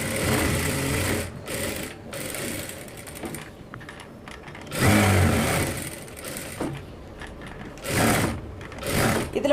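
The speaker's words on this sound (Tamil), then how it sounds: "தையல் போட்டுக்கலாம்." An electric sewing machine stitches blouse fabric in short bursts of rapid mechanical whirring and clatter, pausing between runs, close up with no talking.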